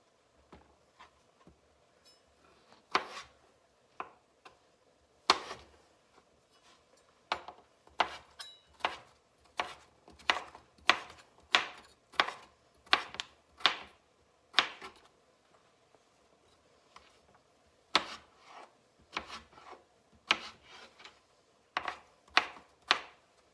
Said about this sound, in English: Okay, now I'm gonna do my potato in little dices.